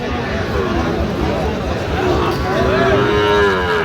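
A cattle market in Narayanganj selling Friesian and Sahiwal bull calves, where a close, drawn-out moo rises and falls over a busy background of crowd chatter and people talking.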